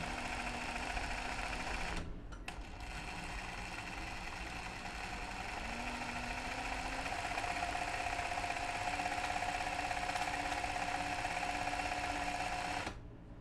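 A regular sewing machine runs steadily during free motion embroidery stitching, a continuous mechanical whir and hum, briefly pausing near the start before stitching on without a break.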